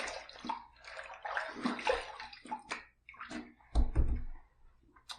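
Water splashes and sloshes as a shaving razor is rinsed, a run of irregular swishes and gurgles close by, ending in a few louder splashes.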